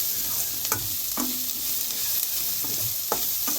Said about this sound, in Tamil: பெருங்காயத்தூள் எல்லாத்தையும் நல்லா வதக்கிப்போம்